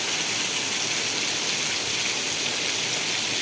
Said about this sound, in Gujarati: અતિ ભયાનક વરસાદ.